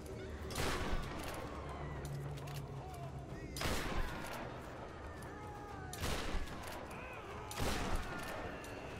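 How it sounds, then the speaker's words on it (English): Automatic gunfire in the video game Tomb Raider comes in four loud, rattling bursts at regular intervals, each lasting about a second, over a constant low game background. "Fucking automatic fire."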